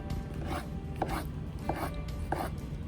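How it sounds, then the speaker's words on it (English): A kitchen knife slices a couple of mushrooms on a cutting board. Four or five soft, evenly spaced cuts come close up and quiet over a low background hum. "I'm just going to slice a couple mushrooms"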